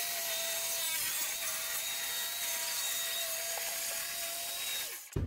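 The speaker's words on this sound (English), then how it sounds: "I'm gonna cut my plywood sheets in half so they are smaller" Steady, continuous hiss of a power saw cutting plywood sheets in half for an attic storage floor, with a sustained high whine that runs unbroken for several seconds before stopping abruptly.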